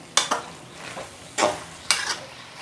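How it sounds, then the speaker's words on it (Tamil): Spoon stirring grated coconut into water spinach poriyal in a pan, four close scraping strokes spaced about half a second apart, each with a short gritty rasp and a faint sizzle underneath. "தேங்காய் போட்டதுக்கப்புறம் மிக்ஸ் பண்ணுறது நல்லா மிக்ஸ் பண்ணிக்கிடலாம்."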